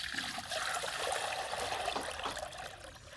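Water is poured into a pigeon's water container, a steady splashing trickle that stays close and fairly loud for several seconds before easing slightly toward the end, with no voices.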